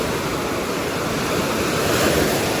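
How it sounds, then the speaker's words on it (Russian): Strong sea surf on a windy beach in Turkey, a dense continuous roar of breaking waves with wind rushing over the microphone, loud and unbroken throughout. "Да, волны сегодня сильные."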